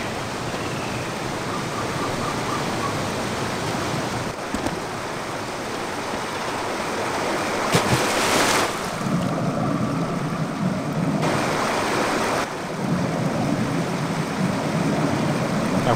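Water in the game Indiana Jones and the Infernal Machine, a steady broad rushing wash like a stream or waterfall that continues unbroken throughout, with a few small shifts in tone and no voices.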